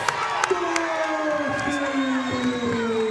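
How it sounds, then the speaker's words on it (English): Spectators at an amateur fight event cheer, whoop and shout in a loud, sustained roar with sharp individual yells and a few claps poking through, and a nearby voice speaking over the noise. "Man, I love to hear the crowd."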